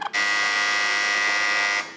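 An electronic quiz buzzer sounds once, a loud steady harsh tone lasting nearly two seconds before cutting off, heard alone at a kids' quiz contest.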